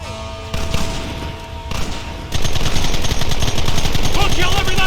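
A Red Dead Redemption shootout breaks into dense, rapid gunfire. Scattered shots give way to a continuous, loud volley of overlapping blasts, with shouting voices mixed in.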